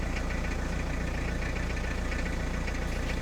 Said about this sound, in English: The suspension is currently set at service low, so I'm just going to change it up to normal driving position.